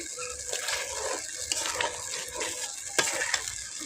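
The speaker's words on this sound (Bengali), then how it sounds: "এটা এভাবে অনবরত নাড়তে থাকতে হবে।" Rice flour soup thickening in a pot as a spoon stirs it without pause, giving soft repeated scraping strokes and a faint bubbling simmer. A few sharper clinks stand out, all close, with no speech.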